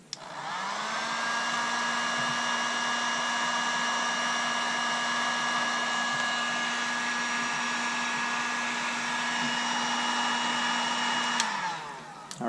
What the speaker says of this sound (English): I switched over to the heat gun and it seemed to work better